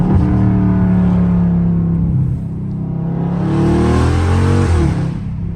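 A Dodge Charger Scat Pack V8 with a loud exhaust and no headers revs hard up close, its deep roar climbing and falling in pitch over several seconds, loud and without speech.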